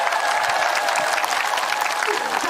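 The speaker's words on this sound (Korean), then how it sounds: "자, 10대 학생들 뜨거운 박수를 부탁드리겠습니다." An audience at a lecture in a village hall applauds, a dense, continuous wash of hand clapping at close to moderate distance with no voices over it.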